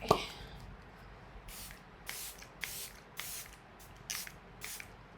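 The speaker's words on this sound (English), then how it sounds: "And I'll use some of my finishing spray." Several short hissing bursts from a makeup finishing spray bottle, quiet and close, pumped in an irregular rhythm with brief gaps between.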